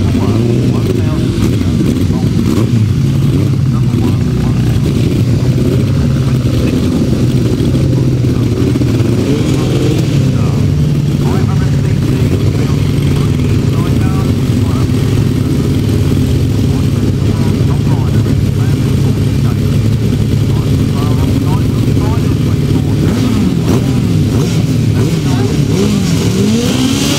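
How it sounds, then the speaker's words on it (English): A pack of 1000cc sidecar motorcycles roars off the line at the start of a grasstrack race, a loud sustained engine drone with revving that rises and falls while a commentator talks over the PA. "I heard a big roar of motorbikes"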